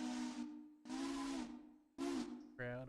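A steam train whistle gives three loud, sustained blasts separated by brief gaps, each with a breathy hiss on top, then a shorter tone at the end.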